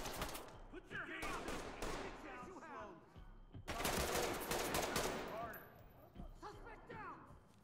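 Bursts of gunfire in the tactical shooter game Ready or Not, rapid automatic volleys that rise and fall across the stretch, a heavy loud salvo in the middle, with voices talking over the shooting.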